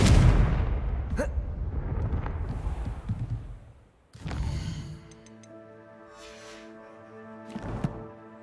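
Confringo fire spell blast in the video game Hogwarts Legacy: a loud roaring rumble, then a sudden cutoff and a booming burst that decays into ringing tonal tails, with a later soft thump.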